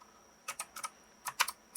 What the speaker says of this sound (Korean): 키보드 밑에 있는 탭키를 치면 다시 이렇게 보여줍니다